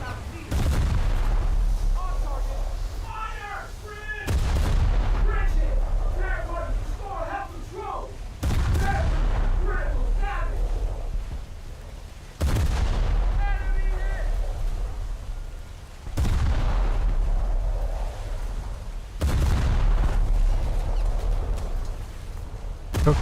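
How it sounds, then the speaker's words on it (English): Coastal artillery in a naval warfare video game fires a series of heavy booming salvos, about six blasts spaced several seconds apart, each followed by a rumbling decay, with someone talking between shots. "or the coastal artillery rather."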